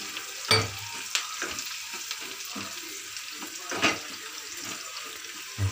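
Onions fry in a pan for tomato gojju, a quiet, close frying hiss with a few louder bursts of sizzle and stirring, no voices.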